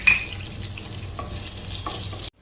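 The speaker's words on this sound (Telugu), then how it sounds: "ఇప్పుడు ఉల్లిపాయ, పచ్చిమిర్చి ఇలా ఎర్రగా వేయించుకోవాలి." Onions and green chilies frying in hot oil in a wok on the stove, a steady close sizzle with a few stirring scrapes, running without talk before cutting off abruptly.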